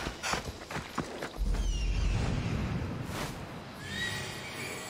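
A horse in the Assassin's Creed Odyssey video game whinnies near and clear, with clip-clop hooves walking at the start and soft ambient movement afterward.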